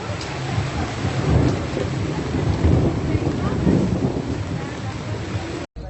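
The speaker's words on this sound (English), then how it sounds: "Raining even harder now." Heavy rain pours down in Mexico City with rumbling thunder rolling beneath a loud, dense hiss, while wind buffets the microphone before a brief dropout at the end.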